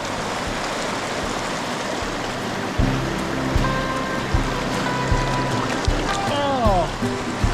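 Steady broadband rush of a river flowing near Jasper, Alberta, Canada fills the scene, with faint tonal hums and muffled background sounds layered over the constant wash.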